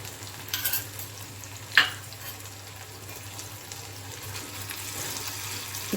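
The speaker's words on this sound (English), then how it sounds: "Now I am adding the tomatoes" Tomatoes and ginger garlic paste tip into a pan of frying poha, giving a brief soft splash and sizzle near the start, then a steady quiet fry and stir continuing alone without talk.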